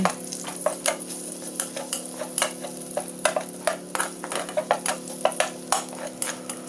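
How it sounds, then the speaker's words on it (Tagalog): Sliced garlic sautéing in a hot pan while onions cook for pork chops, a steady close sizzle broken by frequent sharp scrapes and taps of a spatula stirring against the pan. "mag-gisa na tayo. Maglagay na tayo ng hiniwang bawang."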